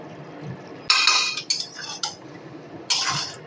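Green and ripe chillies being stirred into a mango pickle with lemon juice, with a few distinct metallic clinks and scrapes of a spoon against the pot, separated by short pauses.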